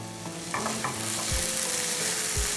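Rajma beans fry and hiss in a hot pan while a spoon stirs them, a continuous close sizzle with a couple of soft scraping knocks.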